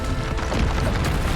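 A Bombarda explosion spell cast in the Hogwarts Legacy video game, a loud, dense booming blast with a continuous rumble that fills the whole moment.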